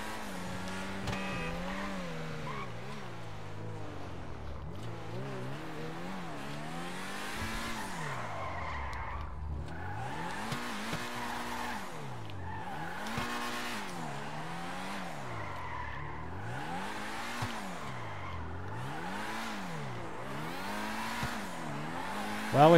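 A Pegassi Torero supercar in GTA 5 revs in repeated rising and falling engine sweeps, with tires squealing as it corners and drifts, loud and close throughout with no talk.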